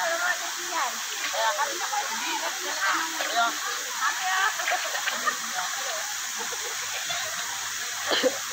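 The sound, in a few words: free-flowing stream water used for washing clothes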